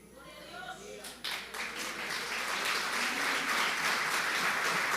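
A church congregation during a sermon breaks into sustained applause, starting after a brief moment and swelling into dense, steady clapping that fills the rest of the clip.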